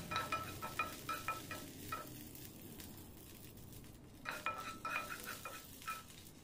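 Finely chopped green chillies fry in a spoonful of hot oil, a steady sizzle running under bursts of clinking metal as a utensil scrapes and stirs the pan, with the clatter quieting midway and then returning.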